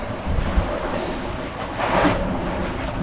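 Strong wind roars over the sea around a fishing boat, mixed with rushing waves and a dull rumble against the microphone, loud and continuous with a surge partway through.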